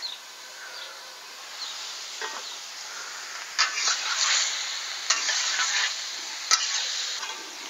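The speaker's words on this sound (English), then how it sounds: "Let's let that simmer." Pink tomato sauce with sausage bubbles and sizzles softly in a pan, a faint steady crackle with occasional sharper pops and a few stirring scrapes; no voices.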